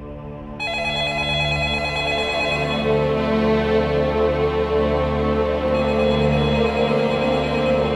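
A telephone rings continuously with a steady electronic tone, loud and close, with no talking.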